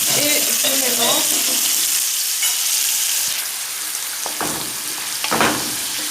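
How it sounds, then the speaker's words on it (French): Minced meat sizzles steadily in a pan while spices are stirred in, scraping strokes breaking through the constant close hiss, with a brief voice near the start. "Je vais ajouter les épices. Et je mélange."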